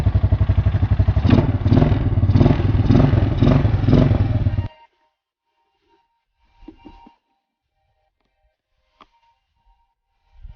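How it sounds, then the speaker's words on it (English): An old Honda quad ATV engine with a weak battery and a low idle setting starts up and runs loudly with a steady pulsing chug for several seconds, then cuts off abruptly into near silence broken by a few faint knocks. "That's how a Honda should start."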